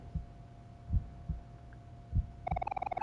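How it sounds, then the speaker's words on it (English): A heartbeat sound effect from the video game OMORI, soft low thuds in slow irregular pairs over a faint steady hum, followed by a quick, pulsing tonal throb at the end. "Oh, I can hear the heartbeat."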